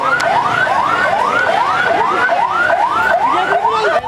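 A fire engine siren wails at a house fire, its rising sweeps repeating in a fast, steady cycle, loud and fairly close with no talk over it.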